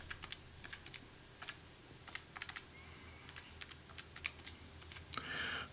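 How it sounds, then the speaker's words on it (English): Calculator buttons are tapped in quick irregular bursts of light, crisp clicks while adding a column of numbers, close and fairly quiet, with a brief louder rustle near the end. "So we're just going to add those numbers up. On our trusty calculator."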